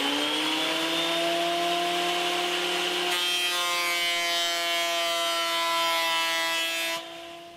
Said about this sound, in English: And it does seem to go through the thicknesser pretty well, so I think I'm going to use that to trim these down.